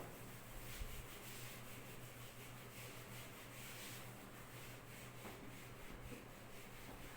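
A teacher wipes a classroom board clean with steady, rhythmic rubbing strokes, a soft continuous scrubbing under low room noise with no talking.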